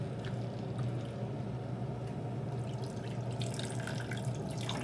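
Water runs from a kitchen tap in a steady, even hiss and splash, fairly quiet and continuous, with no voices.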